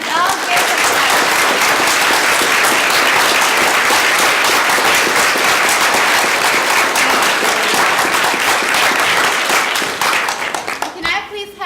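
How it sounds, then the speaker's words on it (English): Audience applause for a Vietnam War veteran grandfather, dense and sustained clapping from a crowd at close range, holding steady for about ten seconds before tapering off abruptly. "And let's all give him a clap."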